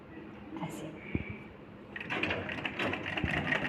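A sewing machine stitches a pocket onto ladies' pajamas, a steady close mechanical whir in the second half after quieter handling sounds, with a faint voice in the background.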